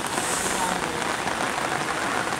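Steady, dense rain pattering on a surface during flooding, loud and close, continuing without a break.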